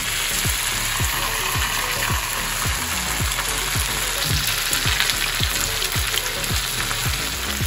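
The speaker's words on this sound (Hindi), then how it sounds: "अब इसको थोड़ा फ्राई कर लेंगे, ये हो जाएगा बिल्कुल क्रिस्पी।" Pieces of farra (dal pitthi) frying in oil until crispy: loud, constant sizzling with a regular series of scraping stirs roughly every half second, close and without talk.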